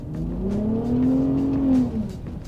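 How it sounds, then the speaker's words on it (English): A 2022 Hennessey VelociRaptor 600 pickup revs its exhaust. It gives a sustained, rising and falling engine roar that swells near the middle and the end, heard close and alone with no talk. "The exhaust, I thought it was a modified exhaust when I first heard it."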